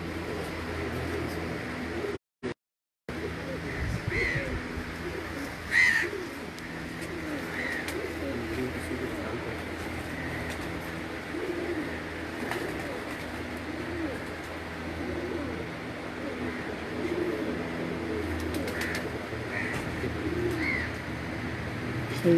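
Pigeons coo on a rooftop in Lahore, soft repeated throaty calls over a constant hiss of outdoor background, with occasional handling noise and someone speaking at times.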